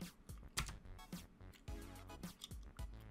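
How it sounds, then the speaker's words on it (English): Loud, clacky keystrokes from a mechanical keyboard tap in irregular bursts, close up and crisp, with no talking. "I also have a mechanical keyboard, so it's super loud."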